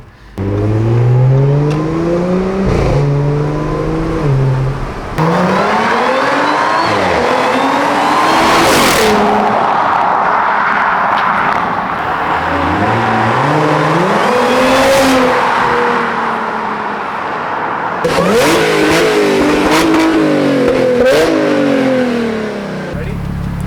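A 2018 Audi A7 with a resonator delete revs repeatedly in rising, raspy bursts, loud and close, with short pauses between pulls.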